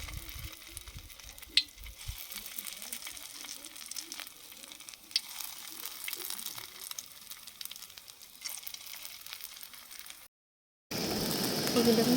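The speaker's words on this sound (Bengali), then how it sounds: "এইভাবে হালকা করে আমি লালচে করে ভেজে নিয়েছি" Mung and masoor lentil fritters fry in hot oil in a wok with a soft, continuous sizzle, broken by a few faint clinks and stirring scrapes; a louder burst of bubbling comes near the end.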